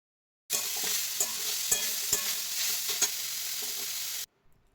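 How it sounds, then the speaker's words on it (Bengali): Grated carrots for carrot halwa are stirred in a hot pan, giving a close, steady sizzle and scraping with a few sharper clicks of the spoon against the pan. "গাজরটাকে ভালোভাবে মিশিয়ে নিতে হবে"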